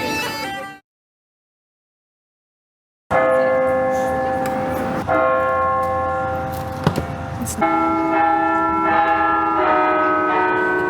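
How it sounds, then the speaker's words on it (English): Church bells in Ireland ring loudly and continuously at noon on a Sunday after a brief silence, overlapping peals sustaining with strong harmonic tones, close and full. "The bells were ringing because it's noon"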